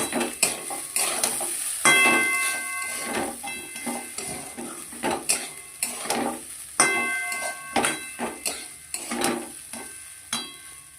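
Slit green chillies and bay leaves frying in a pan for a daliya dish, a steady oil sizzle broken by repeated scraping and clinking stirs of a utensil against the pan, close and fairly loud.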